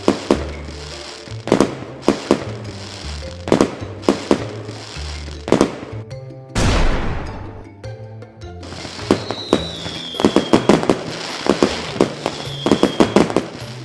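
Firecrackers and fireworks set off at a shop where customers test them before buying: a rapid string of sharp, loud bangs and cracks, with one longer crackling burst midway and more popping volleys after, no talk.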